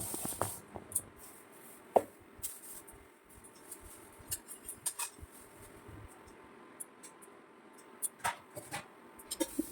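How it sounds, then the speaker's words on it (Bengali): Potatoes and ridge gourd being cut with a knife on a board, scattered sharp taps and knocks coming in irregular bursts, close and fairly quiet against a soft background. "এখন আমি সেই সবজিগুলো কেটে নেব"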